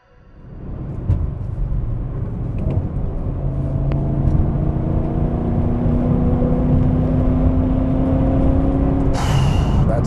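Deep V8 induction roar from a BMW E39 M5 builds quickly and holds steady and loud, with rising tonal harmonics as revs climb, close and continuous.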